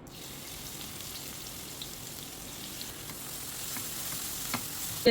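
Crushed shallots frying in coconut oil, a continuous fine crackling sizzle heard close and steady, with faint clicks of a spoon against the pan.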